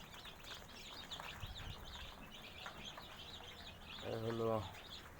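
Day-old Tiger breed chicks in their brooding pen give a continuous chorus of high, thin peeping, with a louder, fuller call rising briefly near the end.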